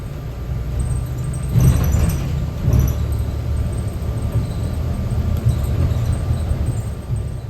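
Interior hum of a Laker Line bus rapid transit vehicle in Grand Rapids, a steady low engine and road rumble with broadband rattle, plus a couple of brief louder bumps early on.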